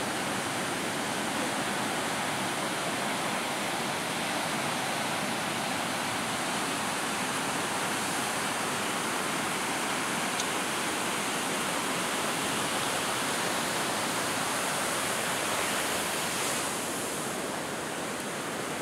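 Surf rolls in at Nguyahan beach in Gunung Kidul, Yogyakarta, a dense, continuous wash of breaking waves that stays loud and steady throughout, with no voices.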